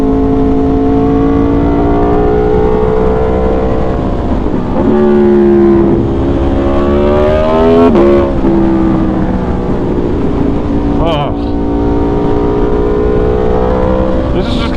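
Aprilia motorcycle engine pulling hard on the road, a loud sustained harmonic drone that climbs in pitch through gear changes, with a brief dip and rise mid-run and steady wind rush underneath.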